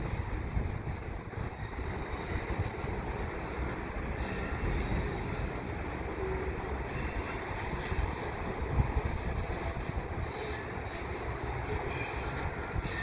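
A CN freight train of hopper cars rolls around a curve beside the Lachine Canal in Montreal, pulled by GP-series locomotives, with a continuous low rumble of wheels and cars and a faint squeal, heard alone at a moderate distance.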